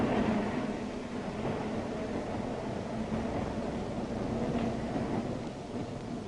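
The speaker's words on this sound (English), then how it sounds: "Ride the elevated train, all the way from the Battery far uptown." A continuous low rumble of an elevated train in New York running steadily, with a dense, grinding clatter that stays even throughout and no voices.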